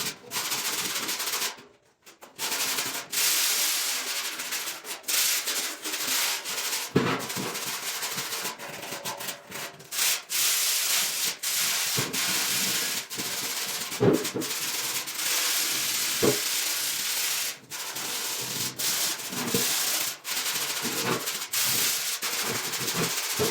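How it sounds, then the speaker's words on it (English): Coarse 60 grit sandpaper scrubs rust off a metal trashcan, a loud rasping hiss in long back-and-forth strokes, close up, with short pauses between passes. "60 grit sandpaper, since this is a pretty rough surface here, so we're gonna use some pretty abrasive sandpaper. I'm gonna take down as much of that rust as I can."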